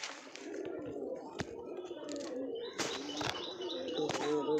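Pigeons gathered in a sunny loft while being fed give steady soft cooing and chirping close by, with occasional sharp flutters and wing flaps and a few louder bursts of activity near the end.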